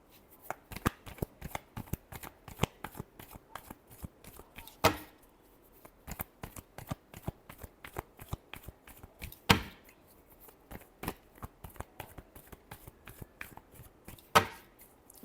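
Tarot cards being shuffled by hand in repeated crisp riffling bursts, with occasional louder slaps as the deck is squared, close and fairly quiet with no talking.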